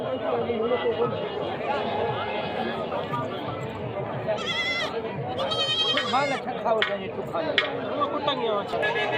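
Goats bleat at a crowded livestock market in Mirpur Sakro, several calls rising over constant crowd chatter and nearby talking.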